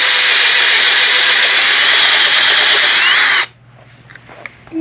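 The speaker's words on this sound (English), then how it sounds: "The best way to put your mirrors in is to drill this out with a step drill." A loud, steady whine of a power drill with a step drill bit boring through material for a few seconds, then it stops abruptly, leaving faint background noise.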